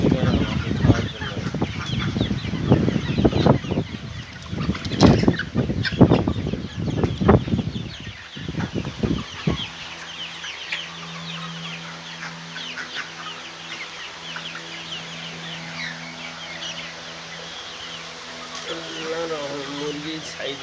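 Healthy farm chickens cluck and squawk in a cluster of loud calls early on, then a quieter stretch of scattered clucking, with someone talking over the flock.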